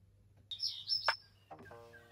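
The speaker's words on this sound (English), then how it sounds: "I heard birds, bro. They're outside." Birds chirp outdoors in a few bright, quick calls, moderately loud at a short distance, with a low steady hum underneath.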